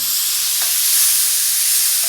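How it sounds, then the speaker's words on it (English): Steady, loud sizzling and hissing of spices frying in a hot pan, continuous and close, with a faint clink partway through. "So these spices are now sizzling away quite nicely"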